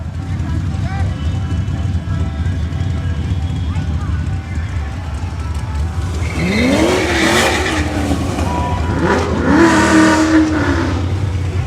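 A race car engine revs hard and climbs in pitch through two strong pulls in the second half, rising over a steady rumble with people talking throughout.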